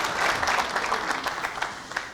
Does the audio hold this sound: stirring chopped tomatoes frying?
no